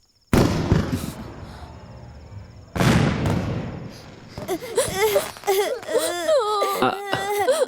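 Two sharp, loud firecracker bangs go off a couple of seconds apart, each trailing off into a noisy tail, and then young children begin crying and wailing close by.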